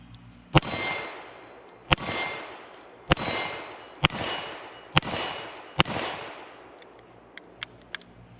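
A Smith & Wesson Model 10 revolver fires six shots of steel-cased Tula .38 Special, each sharp report followed by a ringing clang from a steel target, spaced about a second apart; fainter distant shots follow afterward.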